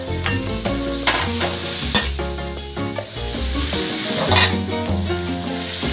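Sliced shallots and chilies stir-fry in hot oil in a pan for a basil stir-fry, with loud, continuous sizzling and repeated scraping stir strokes close up, no voices.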